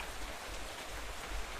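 Steady rain falls in the video game Minecraft, a dense, even hiss of drops with a low rumble beneath, continuous and unbroken for the short stretch with no voices.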